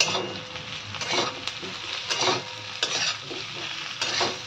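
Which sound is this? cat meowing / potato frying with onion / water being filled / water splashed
potato frying with onion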